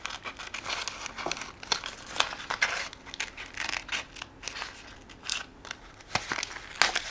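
Crisp snips and crinkling of paper being cut, in irregular short bursts close by, with no voices.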